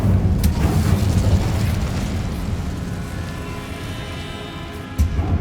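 Incendio fire spell blasting in Hogwarts Legacy: a loud, sustained roaring burst of flame with a heavy low rumble that slowly fades, then a sharp new pop near the end.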